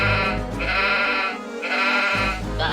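Sheep bleating in the video game Warcraft 2, two loud drawn-out synthetic baa calls with a short gap between them over a low steady game background, no talk.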